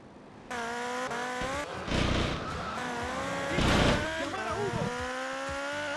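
A motorcycle in GTA Vice City Stories on PS2 revs loudly and steadily, its engine pitch climbing and dropping through gear changes, with two louder bursts of tire squeal or skidding in the middle.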